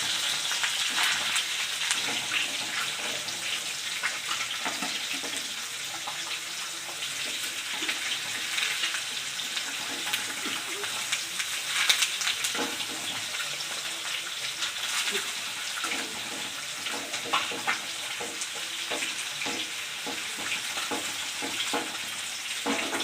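Pieces of katla fish fry in a pan and are turned over one by one. A continuous close sizzle with hissing and crackling runs the whole time, marked by occasional louder spatters and clinks.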